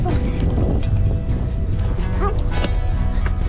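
A ship moving through open sea and leaving a foamy wake, a constant loud rush of water and engine rumble with faint voices and a couple of brief yelps.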